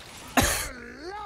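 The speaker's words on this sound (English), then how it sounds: "I'm sure somebody thinks I'm faking the cough" A single harsh cough bursts out close to the microphone, followed by a strained, breathy voiced trailing sound as a gamer recovers during a Team Fortress 2 match.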